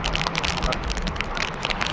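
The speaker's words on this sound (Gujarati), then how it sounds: "વરસાદ ચાલુ થઈ ગયો" Steady rain begins and patters on a surface, a dense continuous hiss with scattered drops, fairly close and even throughout.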